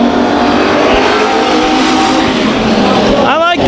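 Hobby stock race cars accelerating at the green flag start at Bakersfield Speedway, a loud, dense wall of engine roar throughout, rising engine whine near the end, with a commentator talking over it.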